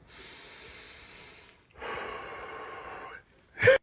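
A person exhales slowly and audibly in two long, steady breaths, mimicking the wash of ocean waves during a relaxation breathing exercise, followed by a short sharp breath at the end; close and fairly quiet, with no talking.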